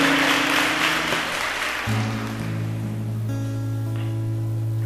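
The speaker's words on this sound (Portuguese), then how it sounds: "Pode aplaudir aí, irmão." Applause from a church congregation, a dense burst of clapping at the start that quickly gives way to steady keyboard tones and a sustained low note.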